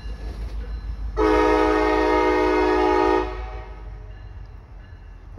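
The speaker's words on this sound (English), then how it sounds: "CSX Street Runner train Y225." A CSX freight train sounds its horn in one loud, steady blast of about two seconds over a low rumble of rolling cars, then the horn cuts off and the rumble carries on.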